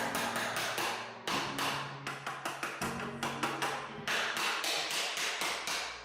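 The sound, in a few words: hammer prying out trim nails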